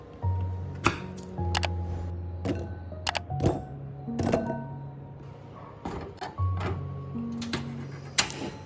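Knife chopping rose apples for a Sri Lankan curry, giving a string of sharp, irregular taps on a board over a steady low hum in a home kitchen.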